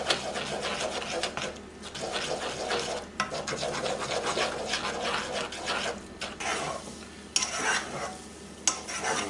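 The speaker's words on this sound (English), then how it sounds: "Just want to stir that until it combines and turns into a ball." Cream puff dough of flour, sugar and salt being stirred in a pan on the stove, a steady close scraping and slapping with a faint sizzle underneath, continuous throughout with a few sharper knocks.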